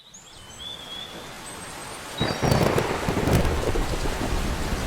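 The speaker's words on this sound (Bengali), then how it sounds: "বৃষ্টি শুরু হয়ে গেল" Rain and rolling thunder in a Bengali cartoon, light rain at first, then heavier downpour with a thunder crack swelling around the middle and continuing; birdsong chirps faintly early on, no talking.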